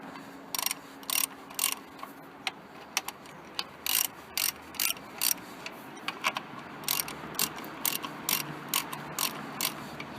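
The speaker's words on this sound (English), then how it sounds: "use a deep socket for these." Close, loud ratchet clicks come in short bursts with brief pauses as a deep socket turns the water pump bolts on a Holden Commodore, with no talk.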